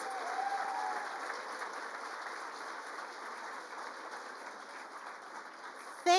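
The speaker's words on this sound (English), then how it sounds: "Let's have a big round of applause for all of our recipients." Applause for recipients at the Toronto Community Champion Awards: a soft, continuous wash of clapping from a large audience, heard from a distance under a steady hum, slowly easing off, with a brief louder noise at the very end.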